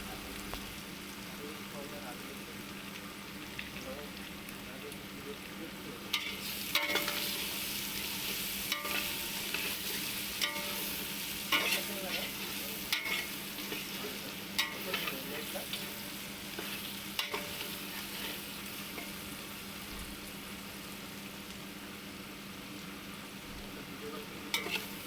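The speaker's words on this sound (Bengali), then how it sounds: "দিয়ে একটু কষে নিচ্ছি। এখানে আমি ডান কোম্পানির মাছের মশলা এইটা দিচ্ছি।" Spices and Dan brand fish masala fry in oil and get stirred with a rohu fish head for muri ghonto, a continuous close sizzle with frequent spoon scrapes and clatters running throughout.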